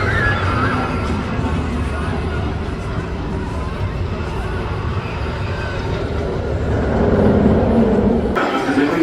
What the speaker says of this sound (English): Blue Train is running pretty good despite it being away from last year